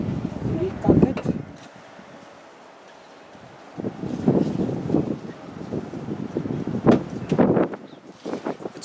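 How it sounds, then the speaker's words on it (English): Gusty wind buffets the microphone outdoors during roadside repair work on a Land Rover Defender, rising and falling in strong rumbling bursts with a calmer lull midway; a voice talks intermittently over it. "It's bad when the wind is blowing like this"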